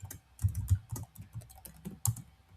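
Test code is typed on a computer keyboard in a quick, uneven run of soft, close key clicks and taps, heard alone with no talking.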